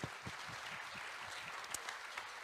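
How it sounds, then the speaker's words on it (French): An audience at a youth engagement conference applauds, with dense, even clapping at a moderate, slightly distant level that holds steady throughout. "On peut les applaudir."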